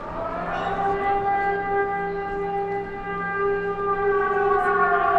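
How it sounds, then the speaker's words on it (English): An air raid siren wails over the main square of Lviv, Ukraine, a loud sustained rising and falling tone with rich harmonics that carries on for the whole stretch with no talk over it. "For the first time, I'm hearing a siren go off."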